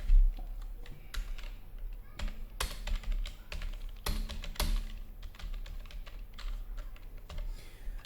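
Laptop keyboard keys tapped in uneven bursts while a line of text is typed into Notepad, with close, crisp clicks and a few louder strokes against faint background hum and no talk.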